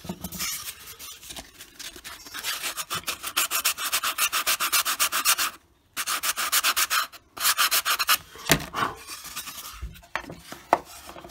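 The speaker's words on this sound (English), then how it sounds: "it doesn't take too much just by sanding it" Close, steady sanding of a wooden P51 Mustang model, with rapid back-and-forth rasping strokes in long bursts broken by brief pauses and a few light knocks, with no talking.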